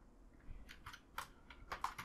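Computer keyboard typing code: a short, quiet run of separate key clicks in an uneven rhythm, with no voices.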